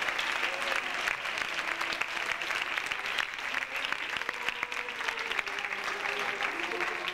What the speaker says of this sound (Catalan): Un fuerte aplaudimiento.